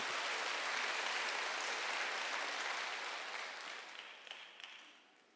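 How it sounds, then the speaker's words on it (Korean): A church congregation at a Wednesday worship service applauds steadily, the clapping soft and somewhat distant, gradually fading over its last seconds with a few stray claps. "박수를 하나 주세요."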